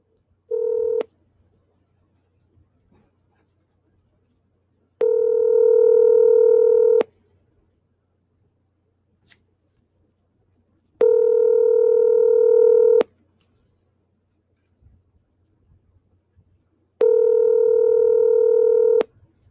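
A telephone handset rings back on a redialed call, with four evenly spaced two-second tones separated by long silent gaps, clear and close.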